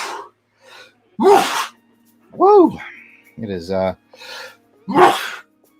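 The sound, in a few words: sneeze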